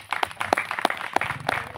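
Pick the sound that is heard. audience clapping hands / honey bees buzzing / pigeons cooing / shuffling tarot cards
audience clapping hands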